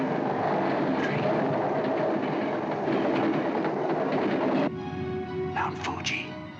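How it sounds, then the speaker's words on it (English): A train passing close by, a loud rumbling roar with rhythmic rail clatter that drops away toward the end, leaving fainter tonal noise. "No, another train."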